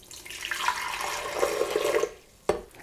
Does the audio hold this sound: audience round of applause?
no